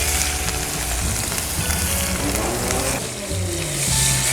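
Finely chopped onion frying in hot oil in a pan with a pinch of asafoetida, a dense continuous sizzle and crackle close up, with a brief dip partway through.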